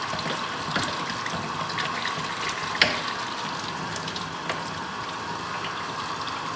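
Water runs steadily over a longhorn bull skull as brains are washed out of it, a continuous gushing with a couple of faint knocks, and no talking.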